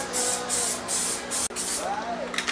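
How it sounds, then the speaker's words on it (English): Aerosol spray paint hissing in bursts as a coat is applied to a Nissan Skyline R33 GTST front bumper bar, loud and close, with a brief pause midway and a faint squeaky sound near the end. "Just gonna give the whole bar a bit of a coat and anything that I see, give some extra paint on."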